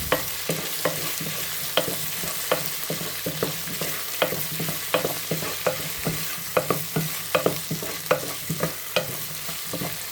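Onions and tomatoes sautéing in a pan, a constant sizzle broken by repeated scraping clicks of a spoon stirring at an uneven rhythm, close and with no talking.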